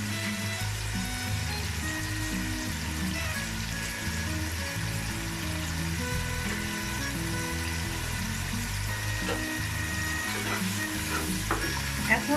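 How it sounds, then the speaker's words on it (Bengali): Spices with ginger paste, salt and fried onions sizzle in a pan for beef curry, a steady close crackling hiss with intermittent stirring clatter, and a low background hum throughout, no speech. "এখন মশলাগুলো আমি কিছুক্ষণ ভালো করে কষিয়ে নেব"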